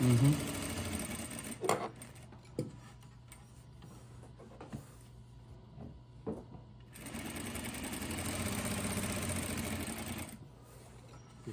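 A Juki DDL-8700 industrial sewing machine stitches a single layer in two runs, a steady fast mechanical hum broken by a quiet pause with a few clicks, fairly close and moderately loud, no voices over it.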